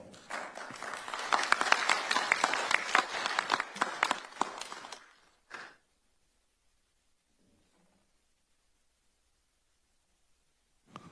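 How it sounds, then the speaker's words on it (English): Audience applause at a forum on Chinese freedom and U.S.-Taiwan security, a dense burst of clapping lasting about five seconds before cutting off into near silence with a faint tap. "So let's give them a round of applause."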